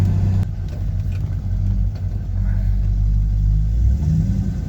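A C5 Corvette with a T56 manual transmission runs with a loud, low engine rumble close by. The drone stays steady, with slight changes in revs as the gears are worked through.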